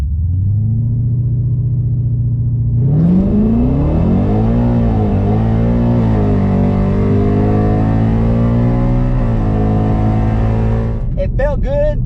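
Ford Mustang GT500 idles low at the dragstrip, then launches hard with a loud rising roar, a gear change partway through and continued pulling, easing off near the end as a voice starts.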